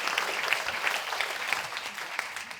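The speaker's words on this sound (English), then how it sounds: "so a round of applause for all of you as well" Steady applause from an audience at an evening launch event for the Voice campaign, dense, continuous clapping filling the room at close range with no voices standing out.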